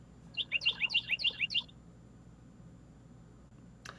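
A bird gives a rapid run of about ten bright, high chirps in quick rhythm, fairly close and clear, then falls silent.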